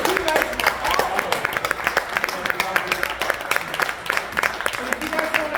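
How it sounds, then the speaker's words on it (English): Audience at a live stand-up comedy show applauding, a moderate patter of many hands clapping steadily throughout, with a voice talking over it. "Let's give yourselves a round of applause."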